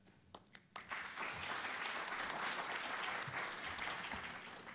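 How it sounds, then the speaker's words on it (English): A seminar audience at a convention breaks into applause, a few scattered claps at first that swell quickly into steady, full clapping from a crowd, heard from a distance in the room before easing slightly. "We like the applause"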